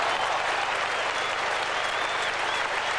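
A cricket crowd at a 1978-79 Ashes Test applauds in a broad, steady wash of clapping heard from a distance, unbroken throughout.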